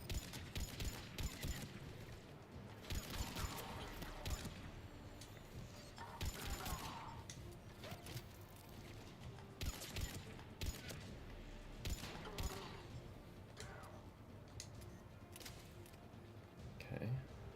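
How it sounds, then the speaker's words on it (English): Gunfire in a Mass Effect: Legendary Edition battle, repeated sharp bursts and shots cracking over a busy, constant wash of combat noise throughout. "I miss all my shots."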